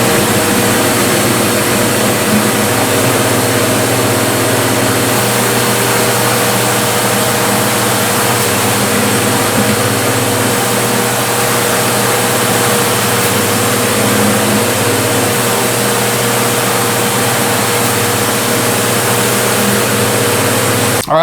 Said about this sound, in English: I'm gonna put this on my flat sander. I'm gonna kind of get this hump out of here.